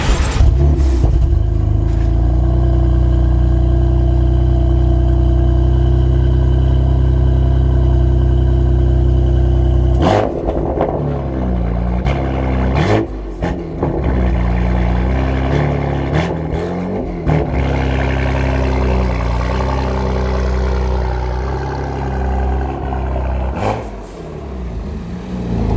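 A BMW F80 M3 fitted with a non-resonated switch-path exhaust drones loudly at steady revs for about ten seconds, then breaks into a series of sharp revs, blips and crackling pops close by, with no talking.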